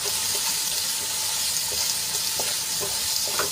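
Finely chopped onions sautéing in oil in a pan, a loud, dense, continuous sizzle close up, with occasional light scrapes of stirring breaking through.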